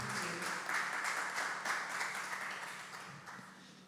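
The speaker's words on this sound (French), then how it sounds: "un tonnerre d'applaudissements s'il vous plaît" Faint, distant applause from an audience at a community event, a soft continuous patter of many hands clapping that slowly fades over a few seconds.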